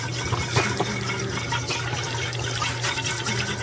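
A glass bottle is plunged into a bucket of bleach water and shaken, giving continuous close sloshing and gurgling while it is sanitized for bottling mead.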